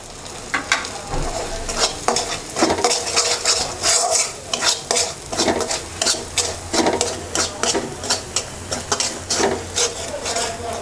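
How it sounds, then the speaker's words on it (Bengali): A spice paste of chilli, turmeric and coriander powder frying in a pan for an olive pickle, with a loud close sizzle under steady, rhythmic scraping strokes of a spoon stirring it. "এবার মশলাটাকে কিছুক্ষণ কষিয়ে নেব।"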